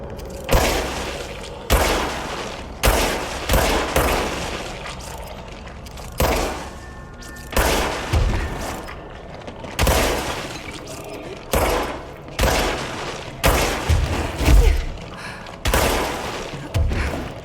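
Gunfire in the video game Control: a series of loud, sharp shots fired in separate bursts roughly every second or two, each followed by a short decaying boom, with no talking.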